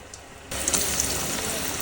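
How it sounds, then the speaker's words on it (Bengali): Eggplant fritters (beguni) frying in hot oil, a steady close sizzle that jumps louder partway through as another battered slice goes in, with faint bubbling crackle throughout. "পরের যে বেগুনিগুলো আছে সেমভাবেই ভেজে নিচ্ছি"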